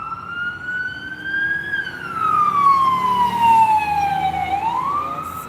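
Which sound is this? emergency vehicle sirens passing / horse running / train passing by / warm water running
emergency vehicle sirens passing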